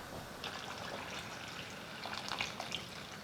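A steady stream of water pours into a cooking pot, soft and continuous, with faint splashing and trickling throughout.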